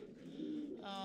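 Soft, low racing pigeon cooing fills the second, overlapping murmurs close by with a faint rustle near the end.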